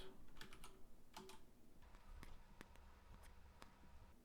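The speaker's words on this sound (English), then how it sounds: "And now I will type, how is the pricing" Computer keyboard typing, a quick series of faint, close key clicks tapping out a short question against a soft background hiss.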